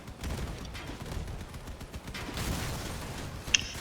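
Rapid bursts of video game weapon fire rattle continuously at moderate level, with a sharper single crack near the end.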